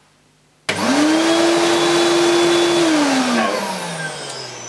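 A Hoover S1248 Portapower 800 vacuum cleaner switches on abruptly and runs loud and close with a steady motor whine that settles slightly lower, after one brief spoken word.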